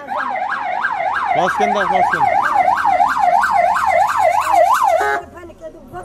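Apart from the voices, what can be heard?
ambulance siren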